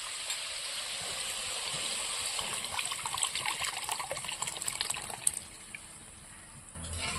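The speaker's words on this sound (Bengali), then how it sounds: "নারকেলের জল, এটা আমি এখন দিয়ে দেবো এটার মধ্যে।" Coconut water from a green coconut poured into a ready spice mixture for prawns cooked in the coconut: a soft, steady pouring and trickling of liquid that continues for several seconds, then stops.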